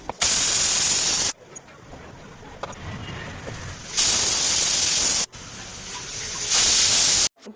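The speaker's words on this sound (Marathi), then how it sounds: "आता आपण झाकण लावून कुकरच्या शिट्ट्या घेऊया 3 ते 4" A pressure cooker of rajma with whole spices, salt and oil lets out loud, close bursts of hissing steam from its whistle: three separate blasts of about a second each, with quieter kitchen noise between them.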